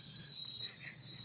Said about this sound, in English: It's the cricket.